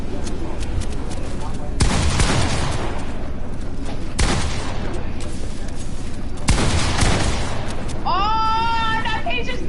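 Rapid bursts of AK gunfire in Fortnite shoot down a player's build, coming as several loud volleys separated by brief pauses, with a short rising whistle-like effect at the end.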